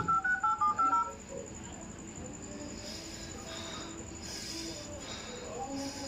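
A quick run of six touch-tone beeps as a phone number is dialed, followed by a quiet line hiss and faint background sounds.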